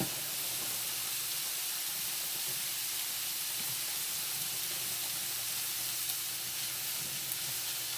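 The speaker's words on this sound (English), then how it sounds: "So we're gonna go ahead and let this down here cook right here. Fry up a little bit." Maple sausage frying in a pan gives off a steady, close sizzle with a constant hiss that never lets up, and no one speaks.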